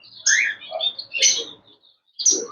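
Small, colorful birds at a flea market chirp and tweet in quick bright bursts, several calls overlapping up close, with brief pauses between flurries.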